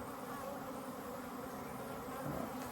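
Honeybees buzz steadily throughout a February hive inspection, a dense, continuous droning hum from many bees close around the open hive, with no speech over it.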